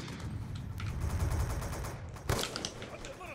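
Dense gunfire from a shooter video game, bursts of rapid shots running steadily through the clip with a sharper crack near the end, fairly loud and busy.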